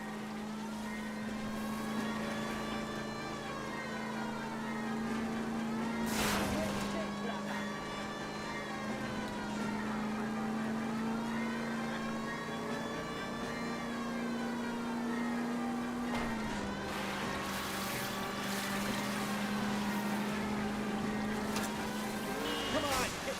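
Engines whine in a steady droning hum during a car chase in L.A. Noire, 1940s Los Angeles, holding a constant pitch that dips briefly a couple of times, with a siren-like rise and fall over it.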